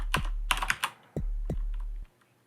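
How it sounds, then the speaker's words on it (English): Rapid computer keyboard tapping during a fast Ultima VI PC glitchless speedrun at Awesome Games Done Quick 2021: sharp clustered clicks in quick bursts, then a few spaced single taps, close and crisp, alone without talk. "You can hear by the keyboard tapping that we are definitely going fast right now."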